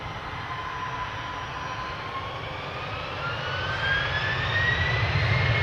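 An Embraer 190 jet airliner takes off, its engine roar steady and broad with a rising whine that climbs in pitch, growing louder toward the end as the jet passes close.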